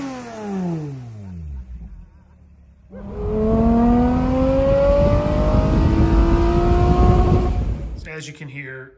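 A Toyota MR2 (SW20) with a swapped 2GR-FE V6 revs hard, rising in pitch and then falling away, before a second louder sustained run climbs steadily, recorded close and loud.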